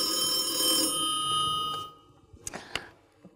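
A telephone rings with a steady electronic tone for nearly two seconds, close and clear, then cuts off, leaving faint handling clicks and room noise.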